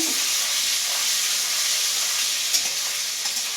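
Garlic paste hits hot oil with black cumin seeds and dried red chillies already in it, setting off a loud, dense, continuous sizzle that holds steady, with a few faint clinks near the end and no voices.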